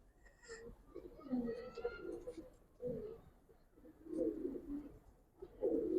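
Giribaz pigeons give repeated low cooing calls in bursts about every second or two, fairly near and otherwise alone.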